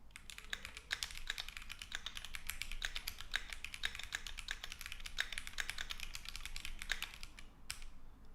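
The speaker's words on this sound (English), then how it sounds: "that was me typing at a consistent pace" Steady, evenly paced typing on a computer keyboard, quick close key clicks in a continuous run with no voices.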